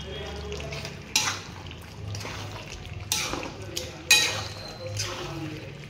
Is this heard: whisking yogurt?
yes